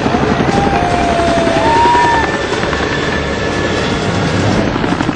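A navy helicopter hovers over a burning commercial building in Mumbai with a loud, continuous rotor roar and a steady whine, close and unbroken for about five seconds, with no voices.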